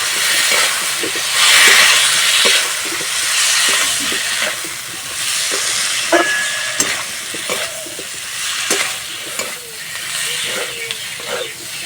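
Spice-laced water poured into a hot pan of fish curry with kalbaus fish, turmeric and chili powder, bursting into a loud sustained sizzle and hiss with steady stirring scrapes and clinks running throughout.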